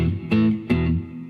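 Two loud electric guitar chord strums played through an amp with a little reverb, each strike sharp and close, the second ringing on with a soft reverberant tail.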